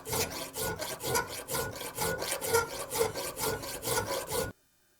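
A grinder or file cuts into the shoulders of an integral Damascus steel chef's knife, making loud, rhythmic rasping strokes about twice a second. The strokes stop abruptly near the end.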